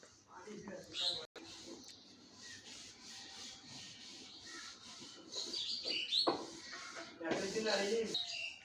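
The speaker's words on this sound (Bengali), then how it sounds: "শালিক পাখি ডাকতেছে" Myna chirps and calls ring out outdoors in a village amid background chatter and ambient noise, with a few sharper calls rising near the end.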